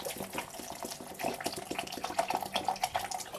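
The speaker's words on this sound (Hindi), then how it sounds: "मैं डालूंगी पानी" Water pouring steadily into a vessel while falsa (Grewia asiatica) juice is prepared, a close, continuous splashing and trickling stream with no voices over it.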